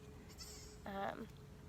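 A single short, faint bleat from a newborn goat kid in a farm stall, lasting about a third of a second over steady background hiss.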